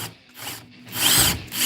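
A power drill whirs in short bursts, revving up and stopping a few times, close and loud.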